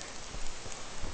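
Horse hooves clip-clop on a trail in a short, muffled, irregular run of soft thuds with no talking.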